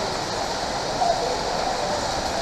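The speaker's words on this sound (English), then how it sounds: "Go show them the waterfall." Waterfall near Mount Rushmore, a steady broadband rush of falling water with nearby voices talking over it throughout, constant and fairly loud with no pauses.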